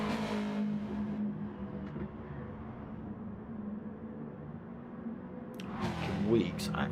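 Race car engines drone together in a sim racing video game, a steady low hum beneath a commentator's voice, with a sharper rising engine burst near the end.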